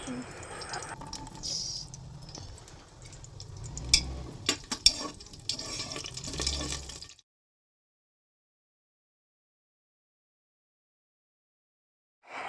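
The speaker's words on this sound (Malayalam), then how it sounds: "എണ്ണ ചൂടായ ശേഷം അണ്ടിപ്പരിപ്പും മുന്തിരിങ്ങയും ഏലക്കയും പട്ടയും ഗ്രാമ്പും എല്ലാം കൂടി ഒന്ന് വറുത്തെടുക്കാവേ" Cashews, raisins, cardamom, cinnamon and cloves fry in hot oil for a pressure-cooker biryani, giving a soft sizzle with light stirring and scraping for about seven seconds before the sound falls silent.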